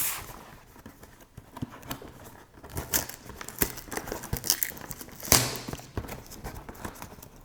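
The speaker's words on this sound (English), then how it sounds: "This Amazon paper is always difficult to deal with" Amazon paper packaging around a Neewer 66-inch carbon fiber tripod is crinkled and torn open in irregular bursts of rustling, with a few sharp louder rips, close up and without speech.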